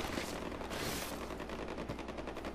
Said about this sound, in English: Oh, there's gunshots.